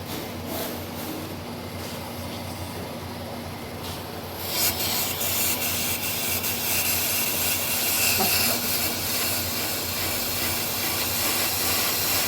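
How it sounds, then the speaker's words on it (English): A brake lathe machines a car brake rotor with a steady, loud grinding hiss. About halfway through, the cut turns harsher and brighter as a heavier pass begins, and the sound runs continuously with no talk. "a rotor on a brake lathe. So we're going to make some passes here."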